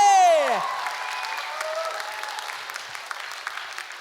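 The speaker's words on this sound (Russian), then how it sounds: "Под ваши бурные аплодисменты, друзья." Audience applause at a children's music competition final in Vitebsk, steady mid-level clapping following a brief fanfare-like tone at the start, gradually fading.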